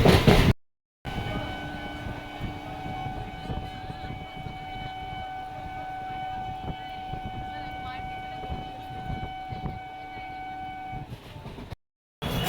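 A train arriving at a platform rumbles close by with long, sustained horn tones ringing over the steady clatter of the carriages.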